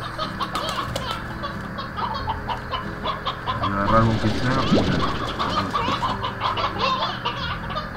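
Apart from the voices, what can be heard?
chickens clucking in video game Slime Rancher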